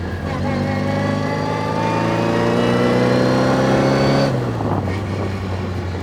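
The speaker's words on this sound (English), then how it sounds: "What's also really nice is the thrum you get from this 4-cylinder." An MG Midget's four-cylinder engine and exhaust rev steadily in a rising, buzzy thrum, building over four seconds, then the engine drops back sharply as the throttle lifts. The sound is close and loud, with no talk over it.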